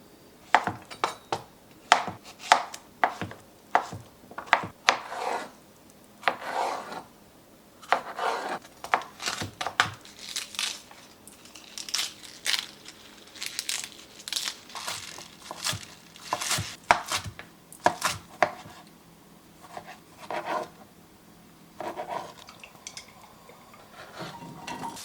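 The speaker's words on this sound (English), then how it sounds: "remove and discard any thick center stems from the kale, roughly chop leaves into small bite-sized pieces" Knife chopping kale, bell pepper and squash on a cutting board, irregular bursts of sharp taps and clacks against the board with short pauses between runs, close and clear.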